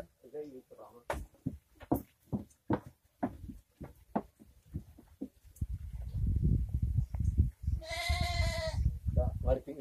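A pet water buffalo, prized on a farm, gives a loud, drawn-out bellowing call near the end, following a stretch of rhythmic clopping and shuffling, while people talk nearby.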